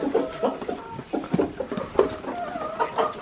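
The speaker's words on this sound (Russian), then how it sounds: "Так, теперь вот этих куриц кормим." Chickens in a backyard coop cluck and chatter in short, repeated bursts while being fed, close by and alone without talk.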